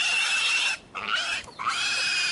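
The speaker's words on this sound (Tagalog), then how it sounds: "Yung isang biik ilalagay dito sa kasama niya." Piglet oinking on a farm beside a hut: a continuous high-pitched squealing run, loud and close, broken by two short pauses before picking up again.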